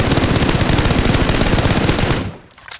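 An automatic rifle fires a continuous spray in a shooter game's training map, a loud rapid burst that empties one magazine and then cuts off abruptly into near silence.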